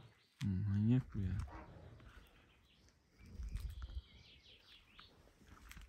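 A pet dog outdoors gives two loud, close barks in the first second and a half, followed by quieter rustling and distant background noise.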